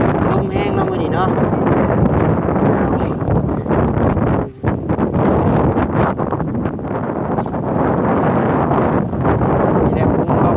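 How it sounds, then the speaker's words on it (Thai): Dry wind blowing hard outdoors, a loud continuous roar buffeting the microphone with only a brief lull midway, a voice speaking faintly beneath it. "ลมแห้งเนาะมื้อนี้เนาะ"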